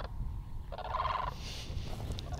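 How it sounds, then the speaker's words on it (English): A blue crane, the national bird, calls outdoors in Africa with a loud, rasping, slightly gobbling croak of about a second, followed by fainter calls over steady background ambience. "National bird, the blue crane."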